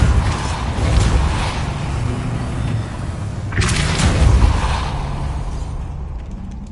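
A Depulso spell in Hogwarts Legacy blasts an obstacle aside, bursting out as a sharp boom over a steady rumbling game soundscape, with a second surge of blast noise midway through.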